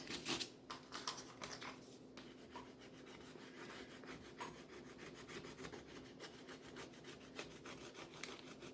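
A small stick rubs an I.O.D. transfer onto a book cover through a plastic backing sheet, producing a continuous close scratchy rubbing with quick repeated strokes.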